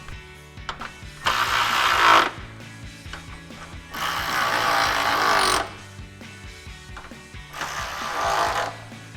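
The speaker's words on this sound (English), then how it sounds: "grab our ratchet with our 10mm socket and tighten those 3 bolts down" A ratchet with a 10mm socket tightens bolts on a 2005-2009 Mustang headlight housing, in three separate bursts of rapid, dense ratcheting, close and fairly loud, with short pauses between.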